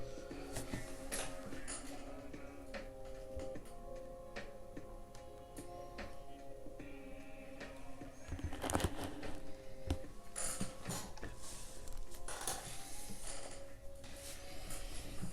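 Picking a EuroSpec MP10 oval lock with a tensioner held clockwise produces faint, close metallic clicks and ticks of pins and wafers, scattered irregularly throughout with no talk.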